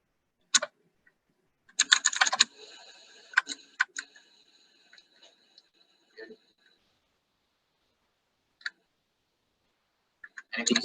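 Scattered clicks of a computer keyboard during a website workshop, with a short burst of quick keystrokes early and then sparse isolated taps separated by quiet gaps.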